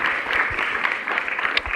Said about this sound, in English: so you can clap for yourselves